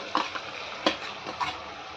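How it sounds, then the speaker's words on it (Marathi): Uncooked rice being stirred gently into chicken masala in a pan for chicken khichdi, a few soft scraping strokes and light sizzling, close and fairly loud. "हलके हाताने तांदूळ मिक्स करायचे।"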